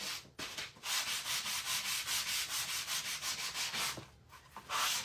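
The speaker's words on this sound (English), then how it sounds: "See how white my sanding sponge is?" A sanding sponge rubs back and forth over wood on a rustic primitive star Easter craft, making a rhythmic scratchy swish in steady close strokes with a few brief pauses.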